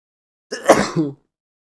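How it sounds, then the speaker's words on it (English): A single hay-fever sneeze from one person, a short close burst with a sharp intake and a throaty release lasting about half a second, then silence. "I'm going to sneeze"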